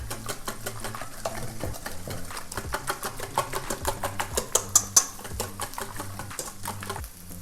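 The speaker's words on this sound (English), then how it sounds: "And give that a whisk." Eggs with parmesan are whisked in a bowl with rapid, rhythmic clicking taps that grow louder and faster midway and then settle, over faint background music.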